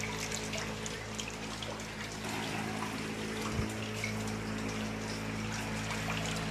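Water trickles and flows steadily through a solar-powered 12 volt DC room air cooler, a continuous close wet hiss under a constant low fan hum.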